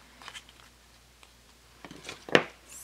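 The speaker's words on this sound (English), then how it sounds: "Scissors." Scissors cut paper for a handmade Mother's Day card: one crisp, close snip near the end, after a few soft paper rustles in a quiet room.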